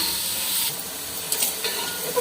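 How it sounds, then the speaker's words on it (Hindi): Potato and fenugreek curry roasting in a pan, a steady sizzling hiss with a few brief stirring scrapes, close and moderately loud, with no talk. "इसकी हम अच्छी तरह भुनाई कर लेंगे"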